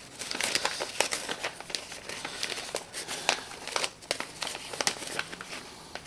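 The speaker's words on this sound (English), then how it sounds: "I put a piece of paper, it's folded in half" A sheet of paper folded in half being handled and creased while drafting a pattern for an extended collar with buckles, giving close, irregular crinkling and rustling bursts with brief pauses between handlings.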